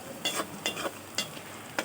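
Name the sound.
frying ginger garlic paste with browned onions for chicken biryani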